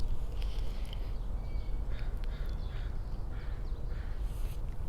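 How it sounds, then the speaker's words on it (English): Several crows caw faintly in the distance over a steady low rumble of outdoor ambience at sunrise near an eagle nest in British Columbia, the calls scattered and indistinct. "I can hear some crows."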